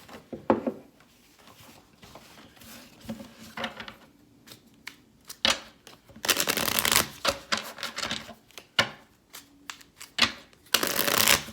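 Oracle cards riffle and snap repeatedly in quick bursts, with papery flutters and slaps growing louder toward the end, close and clear, no talking.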